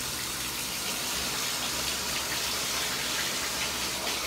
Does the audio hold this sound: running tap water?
yes